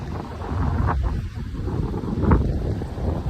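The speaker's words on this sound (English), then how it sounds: "It is windy today." Gusty wind buffets the microphone in low rumbling bursts, with a couple of stronger gusts, outdoors and close while fishing.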